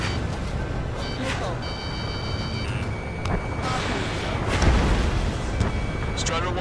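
An anti-aircraft gun blows up in the Ace Combat 7: Skies Unknown flight game, a heavy rumbling blast within a constant loud wash of jet roar and battle noise, with radio chatter beeps on top.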